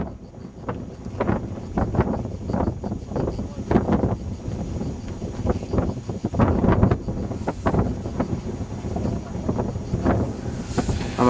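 A strong crosswind buffets the microphone at an outdoor model airplane flying field, a loud, constant rumbling wind noise with gusty surges throughout.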